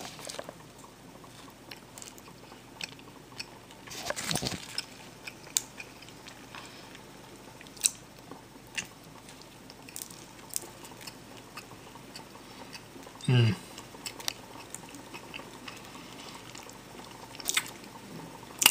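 An oat and apple snack bar being chewed up close: quiet, soft mastication with scattered small crunchy bites and a few louder clicks, no talking.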